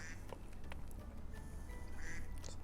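A duck quacks a few short times, fairly faint, over a steady low background rumble.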